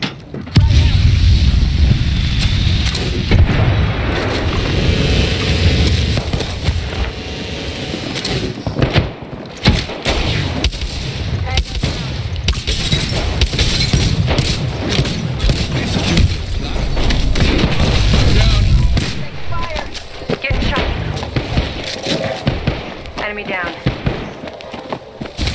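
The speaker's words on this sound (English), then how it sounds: "Getting shot at. Firing." Gunfire and explosions in the PC shooter Apex Legends, a dense, loud barrage of shots, booms and thuds running almost without a break, with voice lines spoken over the action.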